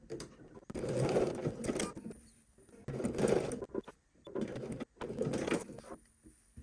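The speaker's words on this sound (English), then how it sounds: "So we're going to sew at the top down through the edge of this fold at 1/2 inch, our seam allowance." A home sewing machine stitches a dress side seam in three short bursts of close, rapid whirring, separated by quiet pauses.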